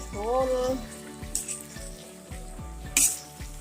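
Food sizzles and fries in a pan, a continuous crackling hiss with a few louder spatters, heard beneath a thumping rhythmic music track.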